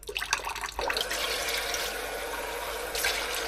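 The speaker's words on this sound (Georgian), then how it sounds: "წყალს ჩავასხამ ამაში საშუალო თბილს" Lukewarm water pours into a glass while seeds are being prepared for soaking: a few small clinks and splashes, then a steady close stream of gurgling water that runs on for several seconds.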